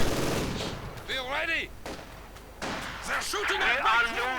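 Machine gun fire in the real-time strategy game Company of Heroes 2, short bursts of gunfire within a busy battle mix under near-continuous commentary.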